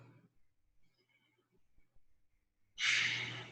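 Deep breathing in a yoga class, a quiet pause broken by a long, loud breath out near the end, close and alone.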